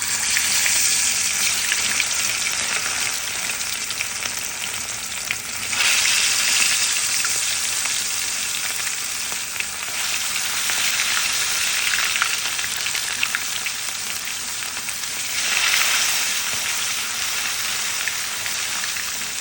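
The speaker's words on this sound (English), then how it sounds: "I am gonna place my fish in the oil. Take my time because the oil is very hot." Fish sizzles loudly in very hot oil, a dense, continuous crackle close by that swells in waves as pieces are added, with no talking.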